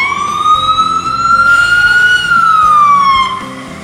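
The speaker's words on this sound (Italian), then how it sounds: "L'ambulanza." A loud ambulance siren wails on a New York street, a single rising and falling tone sweeping slowly up and back down, close by over low traffic rumble.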